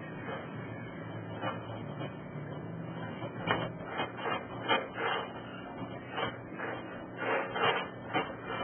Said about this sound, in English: So I'm going to do concealer under my eyes just because that's where it's a little bit dark.